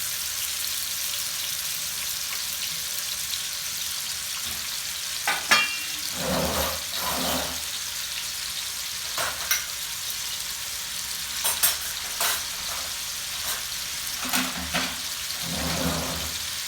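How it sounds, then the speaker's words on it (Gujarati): Tomatoes hit hot oil in a pan for Surti gotalo, giving a steady bright sizzle with several louder bursts of frying and stirring scattered throughout. "તેલ ગરમ થઈ ગયું છે એટલે આપણે ટામેટાં નાખીશું"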